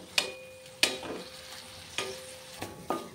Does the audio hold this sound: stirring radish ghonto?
yes